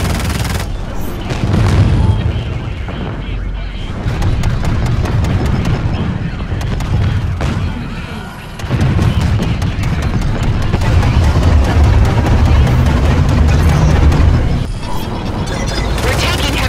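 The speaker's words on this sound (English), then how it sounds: "We're taking heavy fire here." A video game trailer erupts in heavy gunfire and deep booming explosions, loud and dense throughout, with rapid bursts and rumbling blasts layered over intermittent voices.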